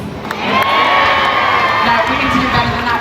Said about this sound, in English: we need you guys to cheer them on